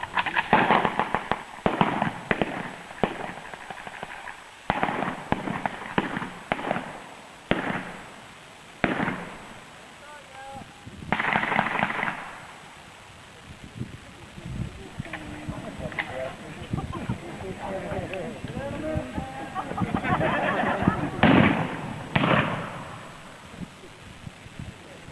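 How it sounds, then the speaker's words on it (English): Civil War reenactment detachment firing weapons at Gettysburg, a ragged series of sharp outdoor bangs and pops spread over many seconds, with wind noise and people talking between shots. "Load and fire at will!"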